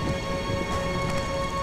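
Heavy rain pours in a nighttime thriller film scene, a dense, steady hiss that stays loud and even from start to finish, with no voices.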